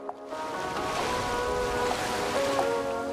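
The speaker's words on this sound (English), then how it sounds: "Solly Bailey grew up in these world-famous waves." Ocean surf rolls in at Byron Bay on Bundjalung land, a steady broadband wash of breaking waves with no gaps, moderately loud and close, with no voices over it.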